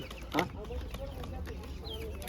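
Chickens for sale at a Ukrainian market give soft scattered clucks, one louder squawk early on, set against a low murmur of background chatter.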